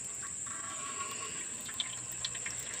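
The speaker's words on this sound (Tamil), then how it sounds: "இப்போ நம்ம எண்ணெய் ஊற்றிக்கலாம்." Oil trickles into a cooking pot heated over a fire, a faint liquid pour and splash with a couple of small drips over a thin, steady background hum.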